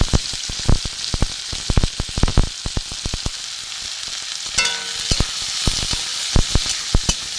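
Chopped tomato sizzling in hot oil in a wok after garlic and finely minced onion, with steady frying crackle broken by sharp stirring scrapes and pops spaced throughout, close and fairly loud.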